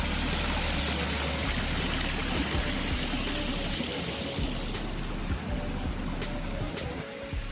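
A constant, fairly loud stream of water courses through a Roman-style ornamental garden, a dense unbroken rush with a slight drop in level near the end and nobody talking.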